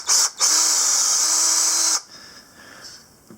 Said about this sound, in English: our flash hole is drilled out